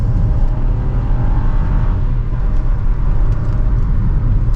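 A 2025 Chevrolet Trax 2RS with a turbocharged engine pulls hard on a test drive, a loud continuous engine drone and road roar from inside the cabin holding steady throughout.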